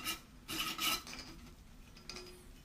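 A jar lid is unscrewed while fairy jar night lights are made, producing quiet gritty rasping and scraping bursts. Two or three short twists come close together, then fainter rubbing follows, close and soft.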